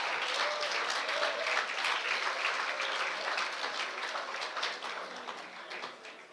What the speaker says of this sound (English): Give him a round of applause as he comes up.